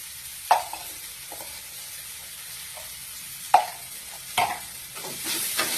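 A spatula stirs corn with coriander and roasted cumin powder in a frying pan, making a few sharp scraping knocks over a soft, low sizzle, heard close with no voices.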